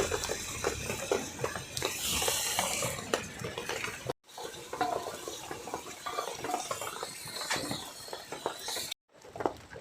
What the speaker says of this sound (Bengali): এবারে আমরা এই যে ঝোলটা বানিয়েছি এর ভিতরে মাছগুলো দিয়ে দিচ্ছি